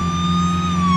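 A police siren in a VR video game chases the player, a loud, sustained wailing tone with steady harmonics that slides slowly in pitch and sounds close behind, over a low engine hum.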